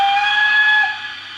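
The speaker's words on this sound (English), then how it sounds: "F3 is the first of the whistles on the locomotive. It's a playable whistle." A model steam locomotive whistle on an Accurascale Manor sound project sounds one long, steady, shrill note that drops slightly in volume near the end, with no talking.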